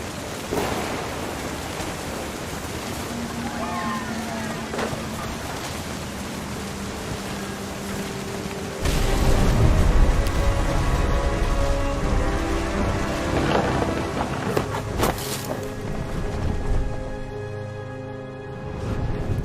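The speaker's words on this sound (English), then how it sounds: "The thunder sounded much too close and full of angry power." Thunderstorm in the video game What Remains of Edith Finch, with steady loud rain hiss throughout and a heavy rumbling surge of thunder midway that stays dense and close, mixed with low game music tones.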